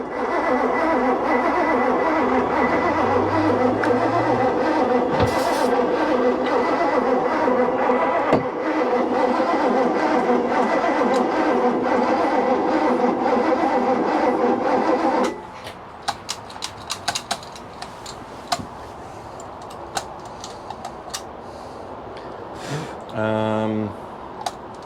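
A 1988 Bayliner Avanti 3250 yacht's engine, left sitting over six years, cranks and churns steadily in the engine room for about fifteen seconds, then stops; scattered clicks and a brief final crank burst follow as people talk nearby.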